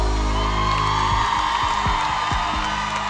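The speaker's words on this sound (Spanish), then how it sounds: "Los aplausos" Live concert audience of a cumbia band, cheering, whooping and clapping together as a loud crowd swell, while a sustained musical tone and scattered low thumps continue underneath.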